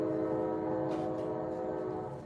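A train horn blares in a long, steady, loud chord over the low rumble of a passing train, holding for a couple of seconds before easing off slightly, with no voices.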